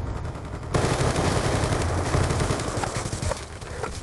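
Rapid automatic gunfire in a shooter video game, a steady loud burst starting just under a second in and continuing to the end, with no talk.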